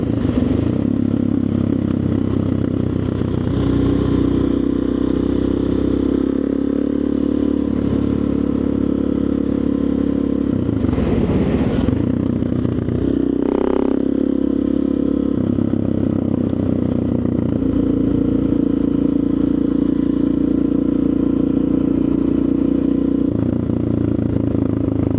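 Motorcycle with a Stroker Big Bore engine droning steadily close by while riding, with a brief throttle surge and clatter near the middle as the front lifts in a wheelie, then settling back to a steady hum.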